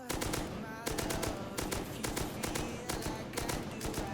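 Rapid rifle gunfire in the Rust video game, long bursts of dense automatic shots with brief pauses between them, loud and continuous throughout with no voices.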